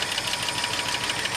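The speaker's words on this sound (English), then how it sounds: "it's running, and it's got a little bit of a lifter tick, or a lot of it. You can probably hear." A running 1972 Ford Highboy engine with a pronounced lifter tick: a rapid, even ticking clatter riding over a steady idle, heard close and alone.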